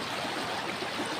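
A clear river flowing past a village on the way to the rice fields gives a steady, even rush of water that stays constant throughout, with no voices.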